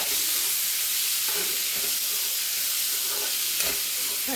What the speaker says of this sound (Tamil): நல்லா வதக்கலாம் தக்காளி போட்டுக்கலாம் நல்லா வதக்கலாம்